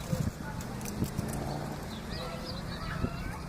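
Donkeys walking on a park path, a few scattered clip-clop hoof steps, faint and somewhat distant under nearby conversation and outdoor ambience.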